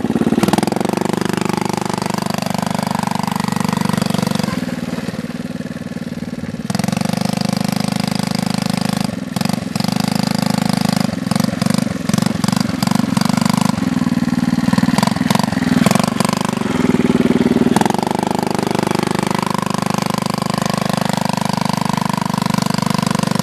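Four-wheeler ATV engines run steadily nearby, with a loud, continuous mid-pitched idle and rumble, plus brief revving and sputtering bursts partway through.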